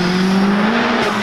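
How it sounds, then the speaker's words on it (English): Loud, steady engine roar of a 404bhp Vauxhall Astra VXR pulling hard in second gear, with a rising drone sustained throughout and heard close from inside or beside the car. "it's a second gear pull, guys. It does get up and go, doesn't it?"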